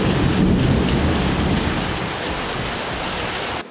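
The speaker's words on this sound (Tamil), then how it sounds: "நம்ம துடியலூர் சைடெல்லாம் பயங்கரமாக இடியோட மழை பெஞ்சிட்ருக்கு." Heavy rain pours down steadily with thunder rumbling through it, a dense, loud wash of noise in the Thudiyalur area, with no one speaking.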